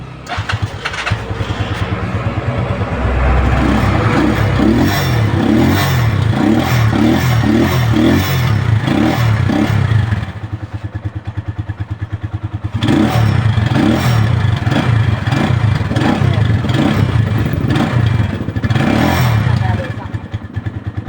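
A Rusi 175 motorcycle engine idles while still cold, a loud uneven putter with a lumpy rhythm that briefly dips as if about to stall before picking back up, close by, with someone talking over it.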